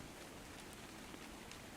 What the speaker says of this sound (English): I should really wait for the rain to stop